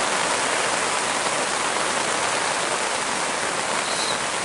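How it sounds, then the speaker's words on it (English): Steady rain falls on a campsite in the Dent area, a dense, even hiss close by with no breaks, loud and unbroken for the whole stretch. "I don't know if you can hear me above the noises of the rain."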